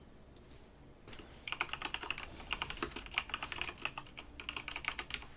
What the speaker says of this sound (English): Oh, I don't know why I'm typing.